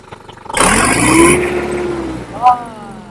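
An engine, apparently a Sonalika, is revved hard for about two seconds, rising into a loud roar and then falling back, with a voice talking close by around it.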